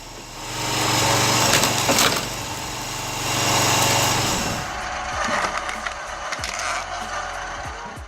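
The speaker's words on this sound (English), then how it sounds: "This wood splitter works precisely, quickly, and without pauses, turning timber into neat logs" A gearbox-driven firewood splitter processes timber into logs, a steady high-pitched engine whine with loud surges and cracking, splintering wood, running continuously without pauses and dropping to a rougher rattle partway through.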